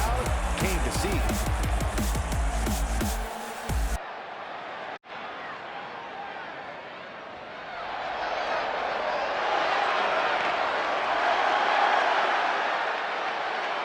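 Sold-out arena crowd in the WWE 2K20 video game, a broad steady roar that swells louder toward the end, after a brief burst of music and a sharp cut.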